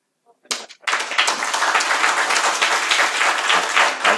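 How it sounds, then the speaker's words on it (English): A conference audience breaks into applause after a brief pause, a dense, steady wash of many hands clapping that holds loud and even to the end. "Hey, you do clap."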